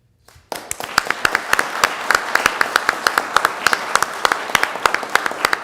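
Audience applause at a city council meeting, dense steady clapping that starts abruptly and holds full and close, with sharp individual claps standing out through the crowd noise.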